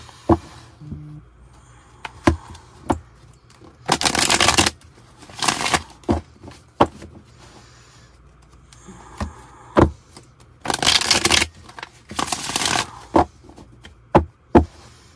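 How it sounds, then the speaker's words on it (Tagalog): A deck of tarot cards is shuffled close by in repeated riffling bursts, separated by quieter gaps and sharp taps and knocks of the cards against a surface, with no talk. "Balasahin lang muna po natin to"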